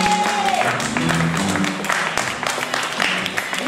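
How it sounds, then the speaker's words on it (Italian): Audience applause at an outdoor balcony concert on Via Mercanti in Turin, a dense stretch of clapping lasting several seconds with a mixed crowd wash and faint tonal sounds underneath. "facciamoli il primo applauso"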